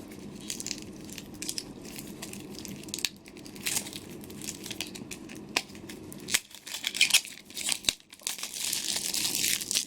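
Plastic wrapper peeled by hand off a Better Backstories card deck: close crinkling and tearing in uneven bursts that grow louder and denser toward the end, with no voices.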